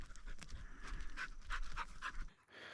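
A young hunting dog on its first chukar hunt pants in quick, rhythmic breaths close by, a steady run of short huffs outdoors, stopping just before the end.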